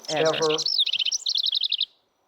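A bird tweets as a dropped-in sound effect: a rapid run of bright chirps right after a brief spoken word, then quick repeated tweets before falling silent.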